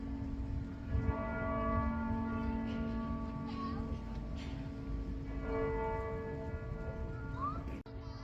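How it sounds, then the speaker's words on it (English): Church bells in the city of Lincoln, England ring on and off in the distance, their tones blending over a constant outdoor street background hum. "Can you hear the bells?"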